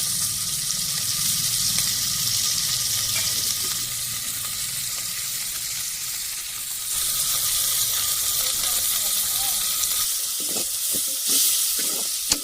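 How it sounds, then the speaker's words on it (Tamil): Onions with salt sauté in a pan for a village-style fish curry, a loud, steady sizzle and crackle lasting throughout, with a few stirring scrapes near the end. "இப்போ வெங்காயம் நல்லா வதக்கலாம்"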